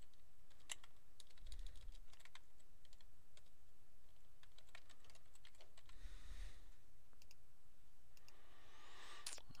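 Steady typing on a Mac computer keyboard, close and fairly quiet, with quick clusters of key clicks and a few heavier thumps like the enter or space key, with no talking.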